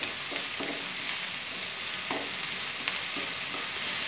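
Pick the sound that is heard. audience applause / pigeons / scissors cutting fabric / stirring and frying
stirring and frying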